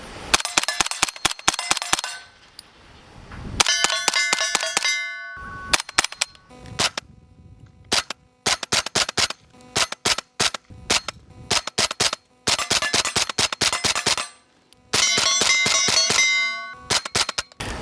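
Suppressed gunshots from a rifle fitted with a B&T Print X SD suppressor running a vented end cap, firing in quick rapid strings and single shots, each a sharp metallic crack with ringing clang, close and loud with brief pauses between bursts.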